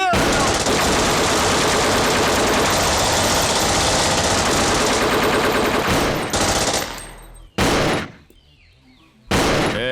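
Gunfire in an action scene from a Hindi-dubbed South Indian film: a long, loud, dense burst of rapid automatic fire mixed with a heavy engine rumble, then a few sharp separate blasts after it cuts off.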